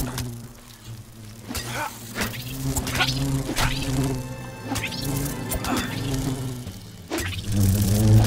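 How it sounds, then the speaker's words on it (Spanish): Wasp buzzing and attacking in the survival game Smalland: Survive the Wilds: a loud, close droning buzz that swoops up and down in pitch, punctuated by sharp hit and crash effects over a low game-ambience hum. "de repente me viene una avispa a atacar"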